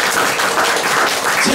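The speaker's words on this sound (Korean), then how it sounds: "자, 우리 김정민 박사님한테 우리와 같은 박수 한번 부탁드리겠습니다." Audience applause for a speaker at a lecture on international order and Korean reunification, a dense steady wash of clapping that fills the whole short moment at close, even loudness.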